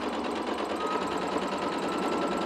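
A sewing machine stitches quilt pieces for a modern nautical baby quilt, joining them right sides together with a quarter-inch seam. It gives a steady, close, continuous mechanical whir with a fast even rhythm and no talking.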